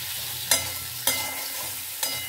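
Onion and tomato with salt frying in a pan, a steady close sizzle broken by three sharp spatula strokes against the pan at roughly half-second intervals, with no talk.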